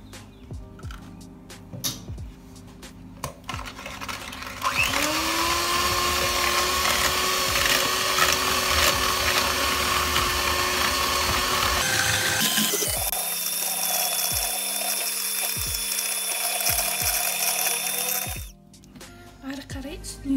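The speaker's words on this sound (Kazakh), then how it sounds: "ыдысымызға жұмыртқаны және қантты салып, жақсылап көтерілгенше миксерлейміз" An electric hand mixer whips eggs and sugar in a bowl for a sponge cake, switching on with a loud whir that runs steadily and then shifts to a higher-pitched, buzzing speed before cutting off.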